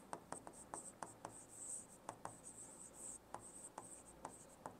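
A pen writes maths working on paper, a run of quick scratchy strokes and taps with short pauses, close and quiet with no talk over it.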